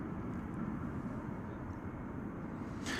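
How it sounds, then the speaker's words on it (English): A Japan Airlines Boeing 747-8, about eleven years old, at DFW airport gives a steady low broadband jet roar, fairly distant and constant throughout, with a faint hiss rising near the end. "747-800 model, or 8. An 11-year-old aircraft, and we'll be seeing it momentarily here on Runway DFW."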